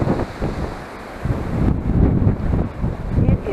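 Gusty wind at an RV park in Thermopolis, Wyoming buffets the microphone in low, uneven rumbling waves, rising and falling without any voices.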